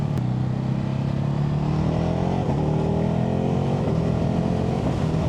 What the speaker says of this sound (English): listen to those gear changes.